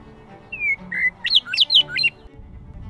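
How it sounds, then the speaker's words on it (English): A western meadowlark sings at Basket Slough Wildlife Refuge in Oregon, a close, loud phrase that opens with a clear whistled note and breaks into a quick run of bubbling, flute-like warbles, then stops. "Our state bird, the western meadowlark, was out with its beautiful song."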